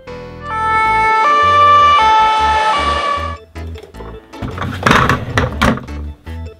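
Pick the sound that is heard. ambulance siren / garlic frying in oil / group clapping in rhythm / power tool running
ambulance siren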